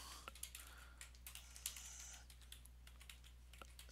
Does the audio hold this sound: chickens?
no